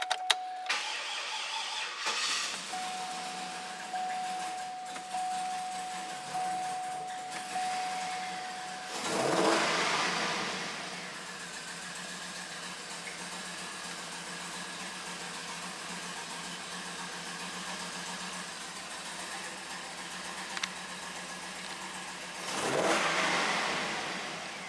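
A 2008 Cadillac Escalade engine, running rough after a rebuild, cranks with rhythmic starter pulses, then catches and surges twice with uneven revving, heard fairly close with a steady background whine.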